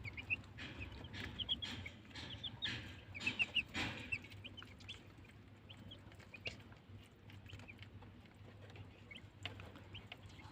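Young ducks, early in their Ramadan rearing cycle, give soft, scattered peeps and chirps at moderate distance, denser in the first few seconds and thinning out over a low background hum.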